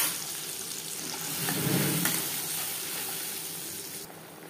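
Cumin seeds and bay leaves fry in oil with a steady, close sizzle that swells briefly in the middle, with no talking.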